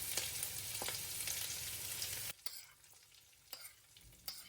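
Chopped onions hit hot oil with fennel seeds for a pork roast, a loud sizzle that drops suddenly to a quieter fry, punctuated by a few sharp spoon scrapes.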